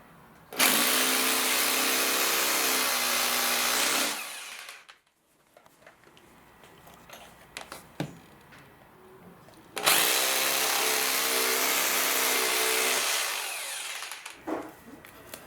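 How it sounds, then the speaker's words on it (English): A hammer drill grinds loudly into tile and concrete floor in two long bursts of about four seconds each, separated by a quieter pause with faint clatter, close by. "This one is the drill and the hammer in one, and this is the one that we need."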